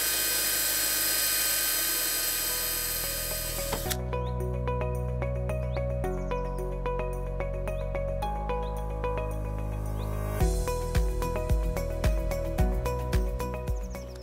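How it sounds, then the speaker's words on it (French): A 3.5 mm bit bores through a seeder plate for a multi-row market-garden seeder, the drill whining steadily at first, then giving way to rhythmic tonal grinding and a run of sharp, evenly spaced bursts near the end. "je me place au-dessus des empreintes de marquage et assure le perçage"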